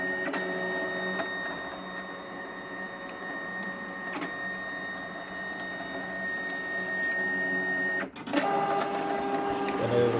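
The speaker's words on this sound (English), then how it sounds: "it'll just go back and forth. You'll see it exit a little bit out of both sides, and what it's doing is collecting fuzz and dirt and debris" A Fargo HDP5000-series ID card printer runs steadily with a mechanical hum as a cleaning card passes back and forth over its rollers, ending in a brief clunk and shifted whir.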